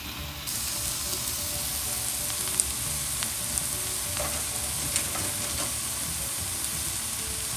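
A pound of ground beef sizzles steadily in a hot pan over medium-high heat, a loud, continuous frying hiss with occasional light stirring scrapes, no voices.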